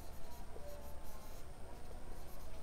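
A name being handwritten in short strokes, a soft continuous scratchy rubbing of pen on paper, close and quiet with no talking.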